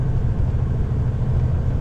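A truck engine holds a loud, steady low rumble throughout, close and continuous, with no talk over it and no clear break of a gear change.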